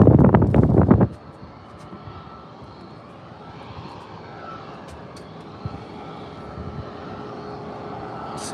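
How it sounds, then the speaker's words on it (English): A fixed-wing airplane at San Diego airport rumbles steadily at a distance under light wind, after a brief loud burst of handling noise at the start, with no voices. "You'll still get the sounds of the airplanes with it."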